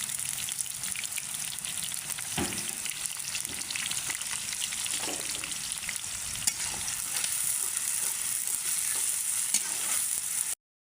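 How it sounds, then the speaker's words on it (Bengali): Chopped onions frying in oil for a goose meat curry give a steady, even sizzle with occasional stirring clatter, close and continuous with no talking. "পেঁয়াজগুলো ভাজা হয়ে গেছে"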